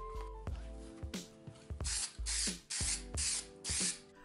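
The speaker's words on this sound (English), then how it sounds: "I apply spray glue to one of each type of rectangle." Spray adhesive hisses onto rectangles of wood veneer as model plywood sheets are made for a realistic model house. Several short, close, hissing bursts, some a second or more long, are separated by small mechanical clicks of the spray nozzle.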